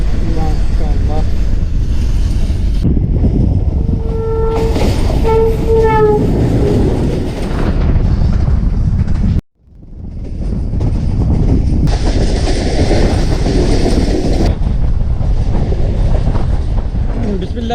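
Tezgam 8 Down passenger train from Rawalpindi to Multan, running loud and close, with a steady rumble of wagons and track noise throughout, a brief dropout near the middle, and faint voices under the din.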